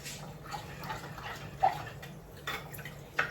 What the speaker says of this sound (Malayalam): ഇനി ഞാൻ ആ പുളിവെള്ളം ഇട്ട് കൊടുക്കുവാണേ.